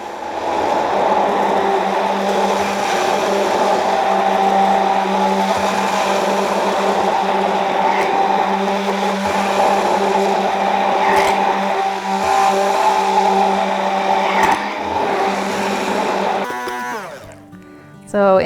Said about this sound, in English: start gently raising your immersion blender up and down until all of the oil is